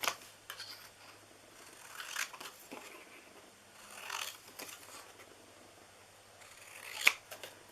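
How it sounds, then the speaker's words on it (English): Scissors fussy-cut paper squares for a greeting card, a series of soft, close snips and rustles coming in irregular bursts with quiet pauses between them. "we are going to fussy cut these squares, which you know are super easy to fussy cut"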